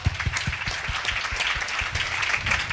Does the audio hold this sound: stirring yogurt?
no